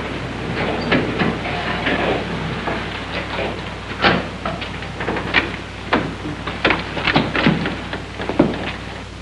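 A train rumbles along its rails with irregular clacks and bursts of noise over a steady low hum, loud and close by.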